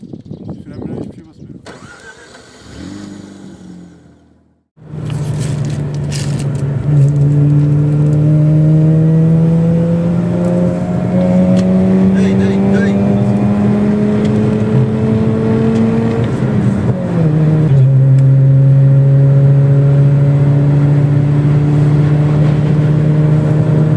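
A Mazda RX8 rotary engine starts up after a brief quiet gap, then revs and accelerates with a steady rising drone, easing off and climbing again, loud and close throughout.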